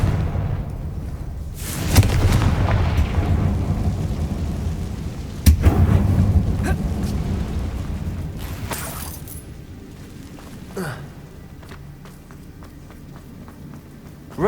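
A Confringo fire spell explodes in Hogwarts Legacy inside an abandoned mine, with sharp loud blasts at about two and five and a half seconds followed by rumbling decay and lighter impacts over game ambience.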